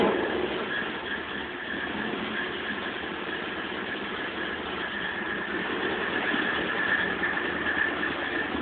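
A 1972 Datsun 510 wagon fitted with a KA24DE engine idles steadily and evenly at close range, a constant muffled engine drone with no starting sound and no voices.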